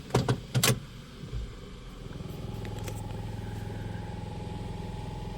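A few clunks and clicks, then a car engine idling in drive with a low, steady rumble and a faint vibrating buzz from a bad engine mount, heard from close by with no talking.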